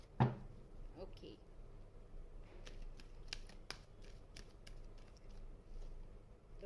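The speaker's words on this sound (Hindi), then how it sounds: "लेकिन हम इसे थोड़ा सा ऐसे अलग तरीके से शफल करेंगे।" Tarot cards being shuffled by hand in a different way, giving a soft crisp riffle followed by scattered light flicks and taps, faint and close, with someone speaking intermittently.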